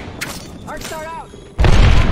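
Arc Star grenade detonating in Apex Legends, a sudden heavy boom with a rumbling, crackling tail that follows a short voice line and lingers to the end.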